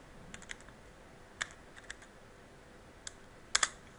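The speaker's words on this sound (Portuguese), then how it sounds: "Clique." Sparse, sharp clicks of a computer mouse at close range, a handful of isolated taps spread irregularly across the stretch with a quick double click near the end, over a faint steady background hiss.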